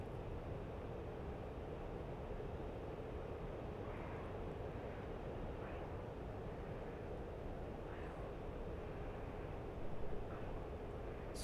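An aerobatic aircraft engine drones steadily through an Immelmann manoeuvre at low altitude: a faint, continuous broadband roar with little change, heard from inside the aircraft.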